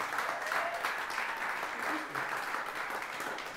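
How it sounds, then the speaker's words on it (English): Steady audience applause for a music organization and its people at a local music winners event, a crowd clapping continuously at mid distance with faint voices underneath. "a round of applause again for this organization, for Benoit and for Timucuan"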